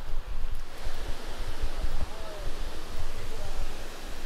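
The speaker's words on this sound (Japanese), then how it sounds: "これが千ヶ滝" Sengataki waterfall in Yamanashi roaring steadily nearby, a broad, constant rushing wash of water with a deep low rumble and no pauses.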